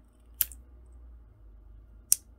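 Scissors snip through crochet yarn in two sharp, separate cuts close by, with near silence between them.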